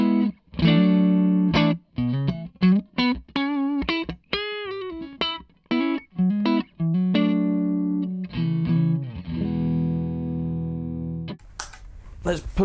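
Clean, dry electric guitar played through a Zander Circuitry Tape Deck pedal with no reverb, loud and close: a run of plucked notes and short phrases, ending in a sustained chord and a brief scrape.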